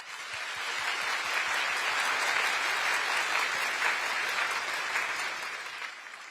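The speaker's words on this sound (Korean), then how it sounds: "여러분 다시 한번 우리 교육생들에게 격려의 박수 부탁드립니다" Audience applause for new public-service trainees at a government lecture hall, a dense, steady wash of many hands clapping that swells and then tapers slightly toward the end.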